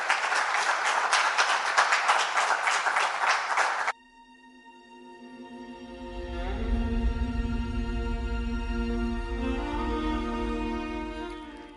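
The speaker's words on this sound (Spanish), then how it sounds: "se lleva una gran ovación del público" Audience applause breaks out at the close of a talk, a dense crowd clapping for about four seconds before cutting off into sustained music.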